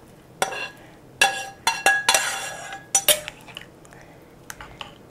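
A metal spoon clinks and scrapes against a baking dish while sausage is added to a savory breakfast strata with custard and vegetables: a run of sharp, close taps in uneven bursts, fading to lighter clicks.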